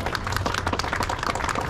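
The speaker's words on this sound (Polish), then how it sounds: "Dziękujemy gorące brawa." A crowd applauds at the closing ceremony of the Rajd Nyski 2024 car rally, a short, dense patter of many hands clapping at once in an outdoor setting.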